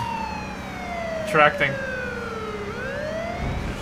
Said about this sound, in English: Is that a cop siren or is that the gas siren?